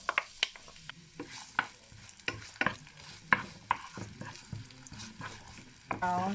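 Onions drop into hot oil and fry, sharp bursts of scraping and clanking from a utensil over a thin sizzle, loud and close, with some background voice.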